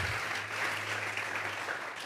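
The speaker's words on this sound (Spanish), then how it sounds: "Dele fuerte esas palmas al Dios de la gloria." Church congregation applauding during a sermon, a steady wash of hand-claps from a crowd heard together with a low, sustained hum.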